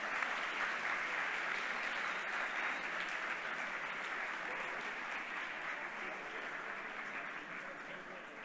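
Steady, dense applause from a hackathon closing-ceremony audience cheering winners headed to Finland, a broad wash of clapping that holds evenly and fades slightly toward the end.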